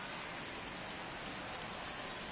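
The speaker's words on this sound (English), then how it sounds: "light but steady rain here at Crosley Field" Light but steady rain falls at an old ballpark, a dense even hiss of drops that stays constant and close throughout with no voices.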